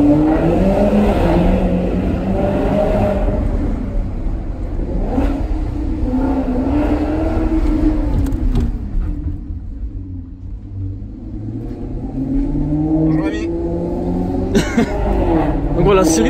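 A Maserati V8 revving in a narrow street lined with buildings, its deep rumbling engine rising and falling through several throttle blips and echoing off the walls, loud and close, with a cough and brief voices nearby.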